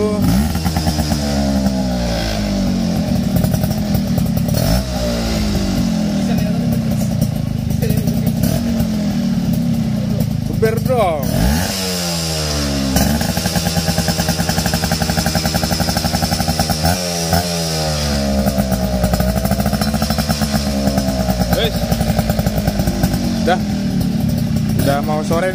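A Suzuki Tornado motorcycle with a stainless racing exhaust idles and revs with a loud, raspy exhaust note, rising and falling through several throttle blips, close by and continuous.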